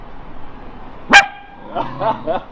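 A dog on a canal towpath lets out a single sharp bark up close, followed by a few softer yips and whimpers, with quiet outdoor ambience and no talk over it.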